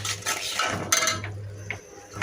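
Spice masala with dried red chilli powder and salt stir-fried in a pan, with a light sizzle under repeated metallic clinks and scrapes of a spatula against the pan at an irregular rhythm and no voices.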